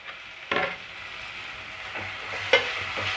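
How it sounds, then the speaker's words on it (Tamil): Chopped tomatoes and mint sautéing in a pan for potato and pea kurma: a steady sizzle with two sharper scraping stirs, close and moderately loud, no talking. "தக்காளி நல்லா கரைஞ்சி வரட்டும் புதினாலெல்லாம் வதங்கி வரட்டும் அது வரைக்கும் நம்ம வதக்கி விட்டுட்டே இருப்போம்"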